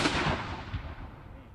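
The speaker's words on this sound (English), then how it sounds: "Shooting a cannon like this is always part of a Civil War reenactment." A cannon fired at a Civil War reenactment, a single loud, close boom with a rumbling tail that decays over about a second.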